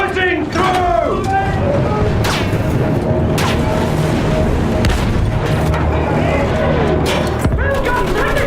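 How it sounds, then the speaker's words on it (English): A Battlefield 1 field gun fires amid dense battle noise, with deep booms, crackling gunfire and mechanical clatter churning continuously, while voices shout over the loud din. "Shoot that field gun, damn it!"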